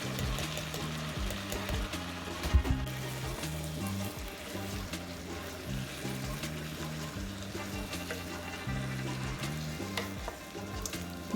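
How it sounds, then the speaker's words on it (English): Carrot rice frying in a pan with cooked white rice, a steady sizzle with repeated scraping stir strokes in a regular rhythm, close and moderately loud with no talk. "allow it to fry for some minutes, just like the way you do your fried rice"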